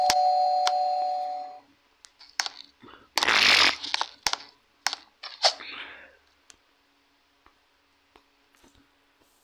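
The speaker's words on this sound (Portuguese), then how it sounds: "Minha campainha, né?" Doorbell chimes in a Roblox game house: a sustained electronic tone opens, followed by a burst of scattered clicks and taps, then near-silence, with no talking.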